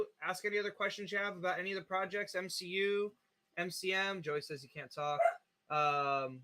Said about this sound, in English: And you can hear my wiener dog going nuts in the background.